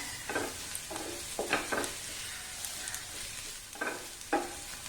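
Garam masala and chili powder frying in oil in a pan, a low, constant sizzle broken by spoon scrapes and stirs, quiet and close with no talk.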